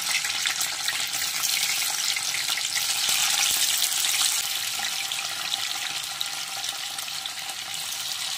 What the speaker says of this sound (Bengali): এবার আমি অল্প অল্প করে আমি পনিরের টুকরোগুলো ভেজে নেব।